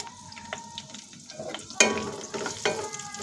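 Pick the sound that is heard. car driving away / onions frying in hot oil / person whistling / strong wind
onions frying in hot oil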